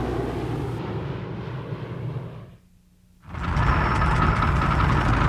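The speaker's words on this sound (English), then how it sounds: "Overhead, Squadrons of the latest planes passed in review and hailed Wright Field." Squadrons of military aircraft roar overhead in a broad, loud engine drone that briefly drops away before surging back even stronger, with no voices.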